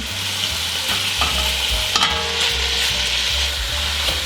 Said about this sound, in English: There we go, got a little sizzle.